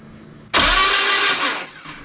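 A Renault 11 Turbo engine cranks and catches after a starter turnover, giving a sudden loud burst that runs about a second before fading, close up with no talk.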